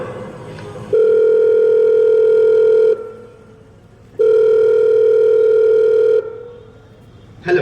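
A telephone dial tone sounds in two long, steady bursts separated by a short pause during a stage play. It is loud and clear, with no voices.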